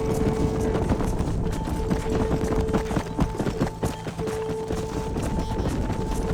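Horse hooves gallop in the Red Dead Redemption video game during a cattle-herding ride, a dense, fast clip-clop rhythm that holds steady throughout at close, loud level with no talk.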